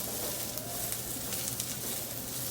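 Fried egg is sizzling in a pan as it is mixed with garlic for a Thai long bean stir-fry. A constant, fairly soft hiss of frying continues with a few faint stirring clicks and no voices.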